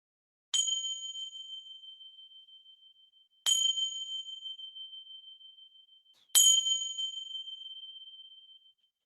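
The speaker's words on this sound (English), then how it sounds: "we're going to hear the bell sound." Three clear bell strikes spaced about three seconds apart, each ringing out with a long, pure, slowly fading tone in an otherwise silent space.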